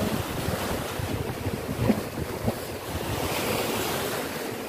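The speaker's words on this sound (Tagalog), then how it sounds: "Malakas ang alon." Strong sea waves break on the shore with a continuous rushing roar, backed by gusts of wind buffeting the microphone, with no voices.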